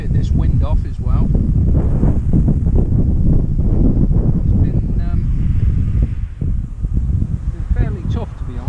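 Strong wind buffets the microphone at a fishing pond during a rainstorm, a loud continuous low roar and rustle that runs through the whole stretch, easing slightly toward the end.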